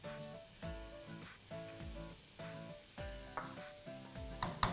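Coriander root, garlic and shallots stir-fry in rendered pork belly fat, giving a steady close sizzle broken by repeated scraping strokes of a utensil against the pan, with no one talking.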